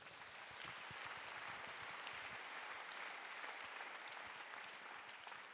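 A church congregation claps in steady, sustained applause, the crowd's hands filling the room evenly at a moderate, somewhat distant level with no pauses.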